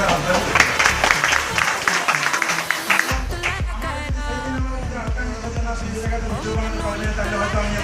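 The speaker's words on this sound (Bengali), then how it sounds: "মিস্টার তাহির হোসেন স্যারের জন্য একটা জোরদার হাততালি" Crowd applause at a celebration honouring an area director, dense clapping at first, then giving way after about three seconds to loud rhythmic music with a steady beat.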